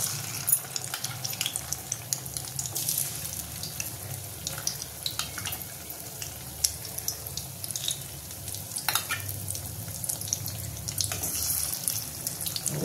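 Eggs frying in a pan, a soft continuous sizzle with scattered small crackles and occasional clinks, heard close and fairly quiet with no voices.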